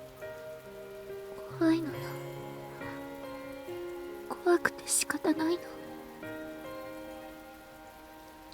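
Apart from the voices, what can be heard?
rain falling, from the visual novel video game The Fruit of Grisaia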